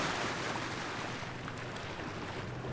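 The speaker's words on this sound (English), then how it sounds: "we're just doing a little bit of motor sailing" A sailboat motor-sails through waves with a couple of sails out in light wind. A steady, close rush of water and wind noise fills the whole stretch, with no talking.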